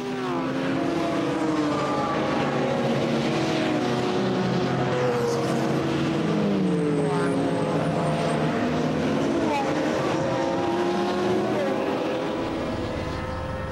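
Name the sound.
Manthey Porsche race car at the Nürburgring 24h race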